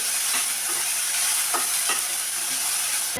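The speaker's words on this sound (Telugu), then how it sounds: "ఒకటి సన్నగా కట్ చేసి పెట్టుకోవాలి గోల్డెన్ బ్రౌన్ వచ్చేంత వరకు వేయనివ్వాలి" Thinly sliced large onion frying in oil until golden brown for a curry, a close, loud, steady sizzle with a few faint stirring scrapes.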